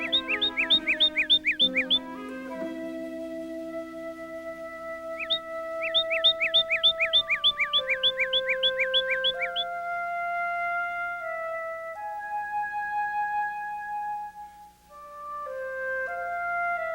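Backyard birds chirp before a winter-into-spring storm: bright, rapid chirping trills come in two bursts over sustained tonal whistles, clear and fairly close, with no voices.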